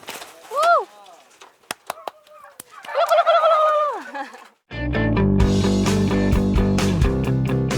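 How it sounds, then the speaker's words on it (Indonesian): A male turkey in a pen gives rising and falling gobbling calls, loud and close, in two bursts separated by quieter clicks, before music takes over. "Suara kalkun jantan yang khas merupakan salah satu cara untuk menarik perhatian kalkun betina."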